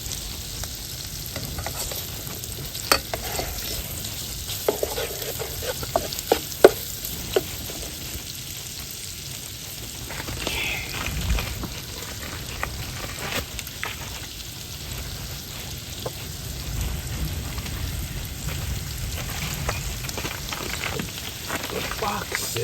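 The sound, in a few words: Italian sausage sizzling and frying in butter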